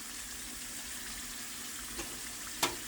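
Hopnis (Apios americana) tubers frying in a pan, a steady soft sizzle with faint crackles and a couple of brief sharper pops near the end.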